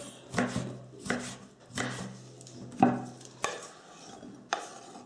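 A knife chops pickled peppers on a board in six separate thuds roughly a second apart, each a short crisp crunch followed by a brief ringing tail, with no voices.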